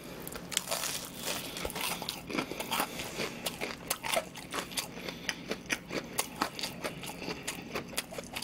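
Crispy fried pork cutlet is bitten and chewed close to the mic, giving a rapid run of sharp crunches and crackles that repeat steadily throughout, with no talking over them.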